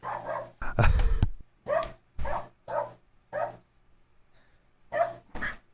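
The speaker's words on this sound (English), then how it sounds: "That's Hilda's classic dog" A dog barking in a series of about eight separate barks, close and fairly loud, spaced out with short pauses and a louder scuffle near the start.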